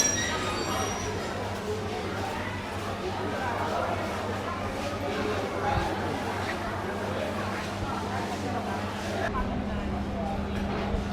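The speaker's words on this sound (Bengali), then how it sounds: "ছেড়ে দিল কুড়িগ্রাম থেকে ঢাকা যাওয়ার বুড়িমারি এক্সপ্রেস ট্রেন।" The Burimari Express train pulls out of a station on its run from Kurigram to Dhaka. A continuous low rumble and rattle of rolling carriages carries on throughout, with a faint clink now and then.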